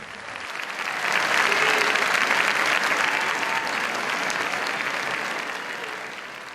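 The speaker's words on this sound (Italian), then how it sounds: "Il pubblico, affascinato ancora una volta da quest'opera immortale, si è lasciato andare in un lungo e interminabile applauso" A theatre audience applauding at length after an opera, dense clapping that swells within the first second or two and holds steady and loud without any voices.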